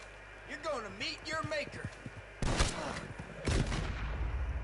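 Rapid bursts of gunfire in a hunting-themed video game, several sharp loud shots cutting in over someone speaking German, the later blasts harsh and close with a lingering rumble.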